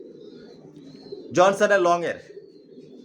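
A racing pigeon chick coos once in a short, close burst of about a second, with soft background noise before and after and a brief spoken word.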